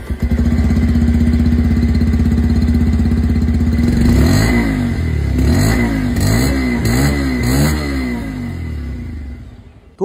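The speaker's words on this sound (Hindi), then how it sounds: "इसकी जो एग्जॉस्ट साउंड है वो मैं आप लोगों को यहाँ पर सुना दूँ" A 125cc motorcycle's exhaust rumbling at a steady idle up close, then a string of sharp throttle blips revving up and dropping back before it settles and fades.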